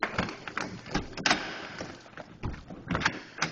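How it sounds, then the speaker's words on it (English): An apartment door in a low-income residential hotel is unlocked and opened, giving a series of close clicks, rattles and soft thuds spread unevenly across a few seconds, with no talk. "to open up my own door"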